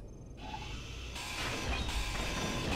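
A metal grinder tool in the game Space Engineers, heard as a steady hissing, rumbling mechanical drone that swells louder partway through and keeps running without pause.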